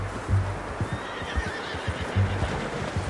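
A horse in the video game Red Dead Redemption 2 gives a near whinny, joined by a few soft hoof clops on the ground.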